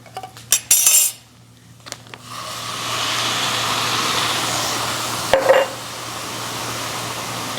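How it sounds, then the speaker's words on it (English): Home-grown tomato pasta sauce stirred in a pot for a lasagna casserole, opening with a few sharp clinks of a utensil against metal, then a soft steady simmering hiss, with one more brief clink near the end. "Stirring in the pasta sauce."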